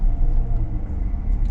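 A Dodge Durango GT with a naturally aspirated Hemi V8 gives a short, steady, deep exhaust rumble from inside the moving SUV.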